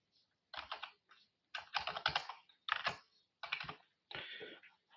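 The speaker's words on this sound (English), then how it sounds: "Now let me type the put command." Typing a command on a computer keyboard, heard as several quick bursts of close key clicks separated by short pauses, with no voices.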